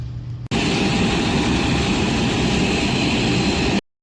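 Pratt and Whitney jet engines on an aircraft at Nairobi's JKIA airport give a loud, steady, broadband roar that starts and stops abruptly, with no voices.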